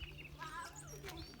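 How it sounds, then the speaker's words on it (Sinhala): Birds chirp and whistle in the forest along the Sri Pada pilgrimage trail, a brief burst of several short, faint calls set against a quiet outdoor background. "කුරුල්ලෝ කෑ ගහන සද්ද."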